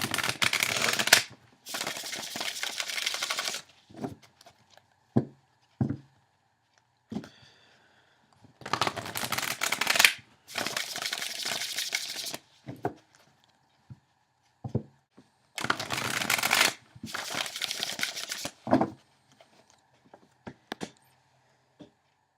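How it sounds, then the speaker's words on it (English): Tarot cards riffled and shuffled in repeated bursts close up, each flurry followed by soft taps and pauses. "let's go ahead and shuffle"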